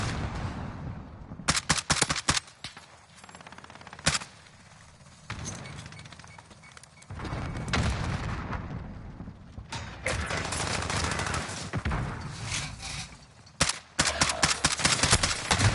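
Bolt-action rifle shots in Call of Duty Modern Warfare (2019) on PS5, sharp loud reports spaced irregularly across the clip, some in quick clusters, mixed with other gunfire and game noise.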